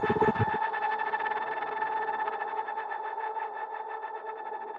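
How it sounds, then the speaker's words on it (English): A Keyscape keyboard patch holds a sustained chord drenched in reverb, with a swirling vibrato wobble pulsing through it and slowly fading after a brief initial attack. "Mod wheel adds more reverb with an awesome swirling vibrato effect."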